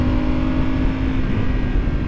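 A Ducati 848 EVO motorcycle's loud exhaust drones steadily at cruising speed, with strong low rumble and a constant engine tone mixed with wind noise.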